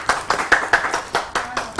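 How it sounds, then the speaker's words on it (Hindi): A studio audience on a TV morning show claps in a brisk, steady burst of rhythmic applause, fairly close and without talk. "और बहुत बहुत तालियां जी सबके लिए,"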